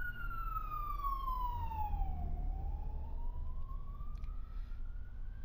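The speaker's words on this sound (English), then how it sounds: "Sorry, we'll wait for the siren to go past." Emergency vehicle siren passing by, a single wailing tone that falls then rises again, moderately distant over a low steady traffic rumble, with no talk.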